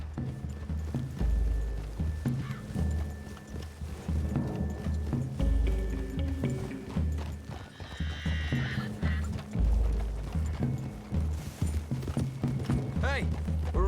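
Horses clip-clopping through woods in the video game Red Dead Redemption 2, steady hoofbeats with an occasional whinny, running under almost continuous dialogue.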